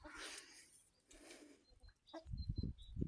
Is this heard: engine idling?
no